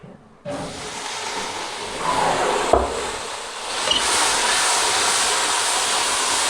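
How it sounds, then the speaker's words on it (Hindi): Water poured into a hot pan of lobia chicken curry, erupting into a loud, steady sizzling hiss that starts abruptly and continues strongly, close up with no talking. "अब इसमें डालेंगे थोड़ा सा पानी।"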